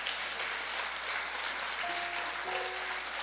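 A church congregation claps and cheers for Jesus after a pastor's guitar remark, steady crowd applause at moderate distance, filling the room evenly with a faint tonal hum beneath.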